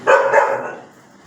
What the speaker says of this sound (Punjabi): ਆ ਕੁੱਤੇ ਬੈਠੇ ਨੇ ਵਿਚਾਰੇ